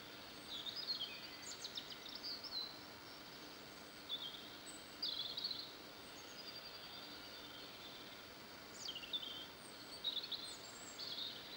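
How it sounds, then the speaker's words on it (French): Birds chirp outdoors during an outdoor exercise session, faint high tweets recurring every couple of seconds over a steady broadband background hiss, distant and quiet. "Écoutez les oiseaux."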